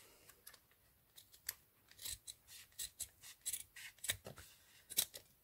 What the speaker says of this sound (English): And then you can take your scissors